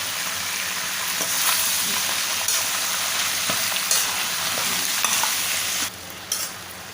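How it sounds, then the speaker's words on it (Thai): Cabbage stir-frying in a hot pan over high heat, a steady close sizzle and crackle with scraping stirs, no voices, the sizzle cutting out briefly near the end. "แล้วก็ลงกระหล่ำปีเลยนะคะ เริ่มใไ่หลยนะคะ ต้องใช้ไฟแรงนะคะ"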